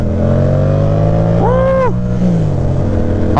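A Yamaha R7 motorcycle pulls away with a steady, throaty engine drone, swelling in a brief rev midway before settling back to a low hum.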